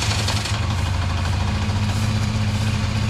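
A Japan-surplus Honda Dio scooter engine idling after a one-click start, putting out a steady close putter with a low throbbing hum and no throttle blips or talk.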